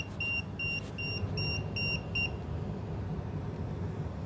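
An EMF meter beeps during a reading spike, about six short, evenly spaced high beeps in quick succession, followed by quiet low room rumble.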